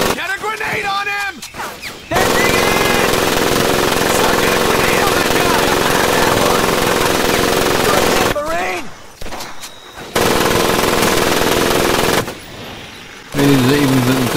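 Sustained loud automatic gunfire and battle noise in Medal of Honor Pacific Assault, running in long bursts broken by short gaps, with shouting voices over the din.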